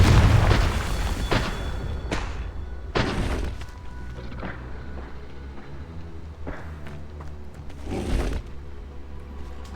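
Confringo spell explosions in a fantasy game, loud booming blasts with deep rumbling low end, one at the start and a few more spaced through the clip, trailing off between hits.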